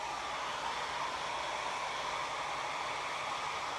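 A hair dryer drying chalk paste on a craft cross runs as a steady, loud, close airy whoosh that holds unchanged from start to end.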